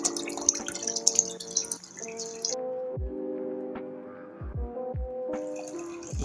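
A water tap on an Arduino PID water flow control rig drips and trickles with a few distinct droplet plinks, close by, with music playing in the background.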